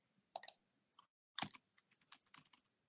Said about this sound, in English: You can use the arrow keys on your keyboard as well.